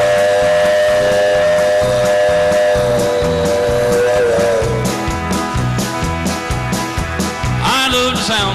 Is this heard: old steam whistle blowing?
yes